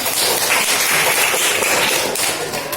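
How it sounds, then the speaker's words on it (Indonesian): A school class claps for the winning discussion group in a classroom lesson, a dense, steady wash of applause that stays even and fairly loud throughout. "Ya, tepuk tangan untuk kemenang."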